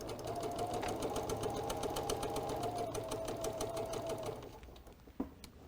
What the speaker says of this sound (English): we're going to sew 1/4 inch down that side